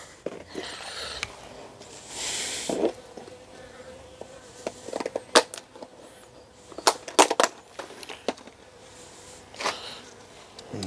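Honey bees buzzing around a beehive, a close, fluctuating hum with individual bees droning past, mixed with scattered sharp knocks and scraping clicks from work at the hive.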